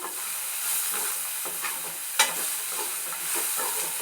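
Banana flower sautés in a pan until golden, a continuous close sizzle broken by stirring scrapes and one sharp knock of the spatula, with no voices.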